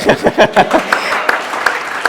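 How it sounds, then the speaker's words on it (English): Scattered clapping from a group, uneven and moderately loud, with some sharper individual claps standing out. "Please clap for her"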